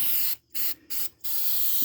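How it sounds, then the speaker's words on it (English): Carburetor cleaner sprays onto an automotive throttle body in three sharp, close hissing bursts, each broken off by a short silence. "You spray it down."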